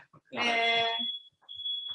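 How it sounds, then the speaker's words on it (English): A smoke alarm sounds in a home kitchen while paella cooks, a shrill piercing tone that starts abruptly and continues steadily, with a brief harmonic-rich burst at the onset and faint background noise. "Fire alarm."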